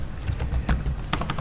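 Someone types code on a computer keyboard, a quick, close run of crisp key clicks, about a dozen uneven taps with a slightly heavier keystroke near the middle, over a low background hum.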